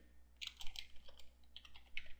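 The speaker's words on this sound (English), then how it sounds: "and then you just type in your search here" Fingers tap out a search on a computer keyboard, a quick run of light, close clicks in short bursts with brief pauses, quiet and without speech.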